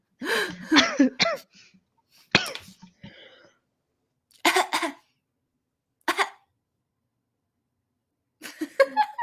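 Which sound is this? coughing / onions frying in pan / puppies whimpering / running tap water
coughing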